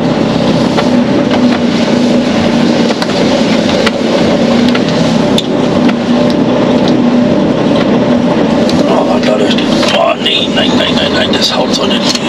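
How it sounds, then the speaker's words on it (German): A car driving once around the block, its engine a steady loud drone close by with tire and road rumble throughout, and a brief shift in the engine sound near the end. "Ich fahre einmal ums Karree."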